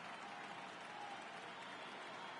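Stadium crowd in MLB The Show 18 cheering and clapping in a steady, distant roar of applause that holds evenly throughout, with no distinct voices standing out.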